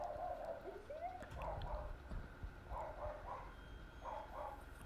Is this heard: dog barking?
yes